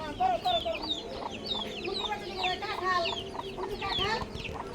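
Several chickens cluck and squawk continuously, close by, with overlapping calls and a faint murmur of voices in the background.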